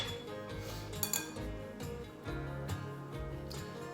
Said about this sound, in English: And we will whisk that together.